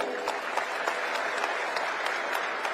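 Steady audience applause at a political speech in Punjab, dense clapping from a crowd filling the whole stretch at an even level with no voices on top.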